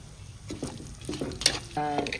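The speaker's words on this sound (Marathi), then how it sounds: "आता हे टरबूज बी आणि काजू आता हे दोन्ही मी एकत्रच तळून घेणार आहे" Cashews and watermelon seeds fry in homemade ghee, giving a close sizzle with intermittent stirring scrapes and clinks of a spoon against the pan, no speech over it.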